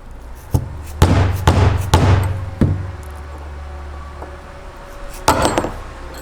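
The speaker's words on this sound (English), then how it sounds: "I'm going to try to hammer it out this way" Heavy metallic hammer blows drive out a control arm bushing on a 1973-87 Chevy/GMC truck, landing in a quick run of four or five strikes, then a pause, then two more close, sharp hits.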